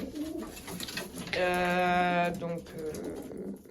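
A single drawn-out pigeon coo rises clearly from the middle of the clip, with faint chatter and rustling before and after it.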